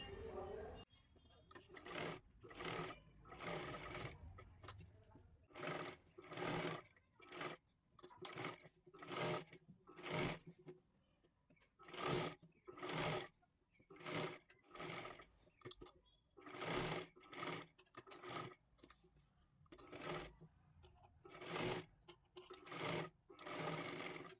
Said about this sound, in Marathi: पूर्ण गळ्याला सर्वात आधी शिलाई करून घ्यायची आहे